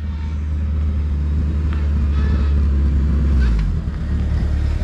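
Turbocharged K24-swapped Honda Civic EK hatchback with a 3-inch downpipe and mid pipe running on a dyno late at night, a loud sustained engine drone that climbs in pitch then drops off near the end.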